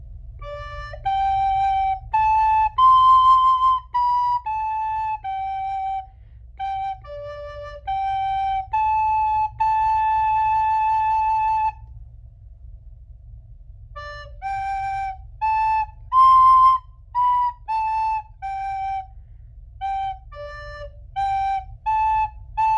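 A recorder plays a simple melody of short, separated notes, pausing midway before continuing, over a steady low hum.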